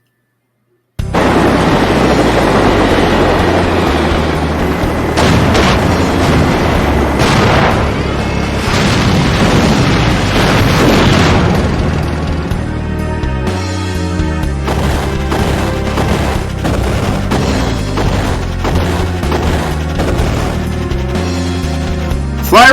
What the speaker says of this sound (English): Fly right in the middle of gunfire.